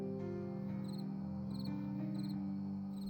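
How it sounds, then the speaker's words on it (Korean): Fighting crickets, the kind kept for the traditional Chinese cricket-fighting pastime, give short, high chirping bursts at a fairly regular pace over a steady low hum. "귀뚜라미 싸움."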